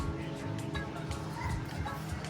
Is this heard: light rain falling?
no